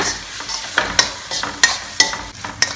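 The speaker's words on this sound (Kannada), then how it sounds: "ಇದಕ್ಕೀಗ ಟೊಮೆಟೊ ಹಾಕೋಣ ಇದನ್ನು ಸ್ವಲ್ಪ ಹುರಿಯೋಣ" Chopped tomato frying in a pan for a broad beans curry, stirred in quick repeated scraping strokes with sharp metallic clicks over a constant sizzle, close and clear, no speech.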